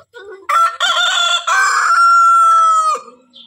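A Brahman rooster crows once loudly and close by, a long drawn-out call that rises then holds steady before cutting off, with faint sounds before and after.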